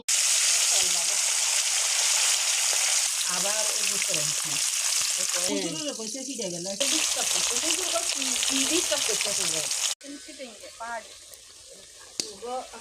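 Hilsa fish frying with greens, potatoes, beans and tomato sizzles loudly and steadily close by, with stirring scrapes, while someone talks over the cooking throughout.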